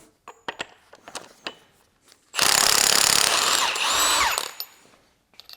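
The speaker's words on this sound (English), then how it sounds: "I'm just gonna zip this nut off, pull out the flange" On a Mercedes E55 AMG, a power tool with a 30 mm 12-point deep socket spins a nut off the drive flange, one loud whirring burst of about two seconds after scattered clicks and handling of tools.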